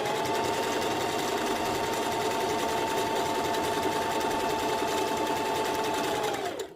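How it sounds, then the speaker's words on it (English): A sewing machine runs steadily, stitching fabric all around an adjustable button bonnet, with a loud continuous motor whir and rapid needle chatter that holds even for several seconds before winding down at the end. "You're going to sew all around, no leaving no space."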